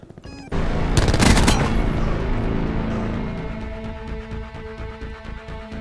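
A rapid burst of gunfire crackles loudly for about a second, then gives way to a steady, ringing electronic tone that fades slowly.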